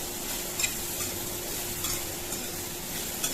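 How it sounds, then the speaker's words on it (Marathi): Bottle gourd slices stir-fry in hot oil with a steady sizzle and frying hiss, while a utensil scrapes and clicks at intervals against the pan. No voices are heard. "आता दुधी घालूया आपण दुधीचं काप केलेलं ते पण चांगलं तेलातच परतून घ्यायचं"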